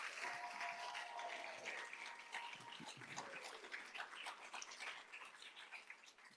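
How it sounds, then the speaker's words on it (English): Big round of applause for nursing graduates at a pinning ceremony, a dense, even rush of many hands clapping that holds throughout, fairly quiet and distant-sounding. "How about one more big round of applause to all our nursing graduates?"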